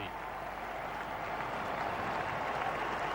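A cricket crowd at the MCG applauds a batsman reaching fifty during a 1999 Sri Lanka versus England one-day match, a steady, dense wash of clapping and cheering that holds for the whole span.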